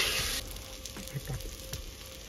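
Chopped tomatoes, added after ginger and garlic, cooking in a pan for a Kerala-style chemballi fish curry, giving a brief hiss that settles into a soft steady sizzle with a few stirring knocks, close by.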